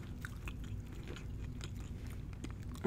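Homemade french fries being bitten and chewed up close, a run of crisp crunchy snaps and chewing sounds repeating over a few seconds with no talking.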